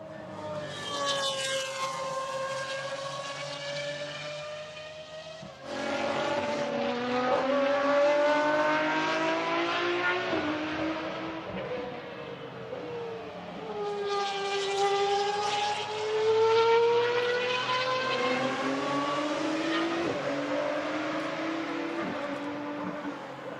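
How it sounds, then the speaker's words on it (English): A Pagani Huayra R race car at the Barcelona circuit coming into turn 3: a loud, high engine wail that drops in pitch on the downshift and braking, then climbs again as the car gets back on the power, heard alone. "another of the Pagani Huara R's that comes into turn 3"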